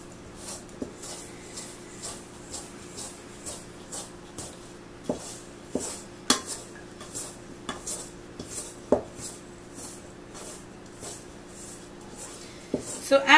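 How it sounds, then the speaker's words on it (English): Flour tortilla dough stirred in a bowl, a quiet series of irregular knocks and scrapes of a utensil against the bowl, close by, with a faint steady hum behind and no talk. "And you stir this until it's all blended."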